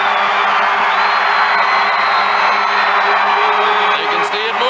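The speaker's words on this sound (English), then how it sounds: "Now listen to the crowd." A huge Times Square crowd cheers on New Year's Eve, moments before the ball drops, in a steady, dense roar of voices and whoops that never lets up, with a broadcaster's talk layered over it.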